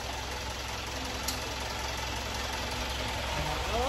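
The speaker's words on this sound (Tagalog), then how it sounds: "Okay, magpapaandar tayo ng isang crosswind dyan." An Isuzu Crosswind engine idles steadily, a continuous low rumble with a faint ticking knock running under it, close and even throughout.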